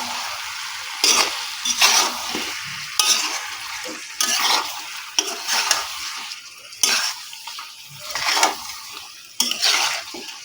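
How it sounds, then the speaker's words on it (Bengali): Mutton fries with cumin powder and Kashmiri chilli powder as a spoon stirs it in bursts, scraping and clattering against the pot over a low sizzle, with short pauses between strokes and no voices. "এখন এগুলোকে ভালো করে মাংসের সঙ্গে মিশিয়ে নিচ্ছি।"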